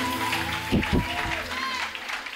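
A congregation at a French-language worship service applauds and cheers for Jesus, a short clapping burst rising over sustained music and voices, fairly loud and close.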